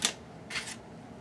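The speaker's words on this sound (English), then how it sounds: "I'm going to take my scissors and cut" Scissors snip into the corner of cardstock wrapped over a chipboard onesie frame in a craft project: two short, crisp cuts close by, about half a second apart, with no talking.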